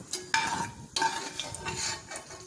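Chillies frying in hot oil for a Tamil chicken fry, with bursts of sizzling and the scrape of stirring coming in several waves, close and moderately loud, no talking.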